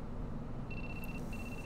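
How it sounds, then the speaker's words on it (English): A cell phone in Shin Megami Tensei III Nocturne rings with a thin electronic trill, two short tones over a dense low game ambience. "I think that's your phone going off."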